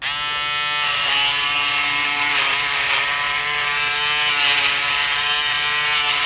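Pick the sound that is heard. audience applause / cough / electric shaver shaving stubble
electric shaver shaving stubble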